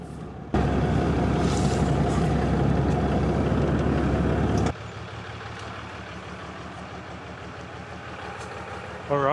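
Engine of a 200 vehicle running as it is driven out onto a driveway, a loud steady rumble that drops to a lower idle partway through, close by.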